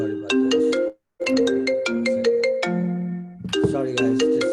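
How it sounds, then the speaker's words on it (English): A mobile phone ringtone plays a bright, loud electronic melody of quick repeated notes. It breaks off once briefly, then resumes, with no talking over it. "My phone was ringing."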